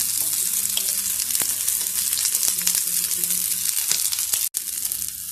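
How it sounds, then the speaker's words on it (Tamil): Oats cutlets fry in oil over a medium flame, a close, steady sizzle with scattered crackling pops and light scraping, with one brief dropout near the end. "சுற்றி கொஞ்சம் எண்ணெய் ஊற்றிக்கிறேன். மீடியம் ஃப்ளேமில் வச்சுக்கோங்க."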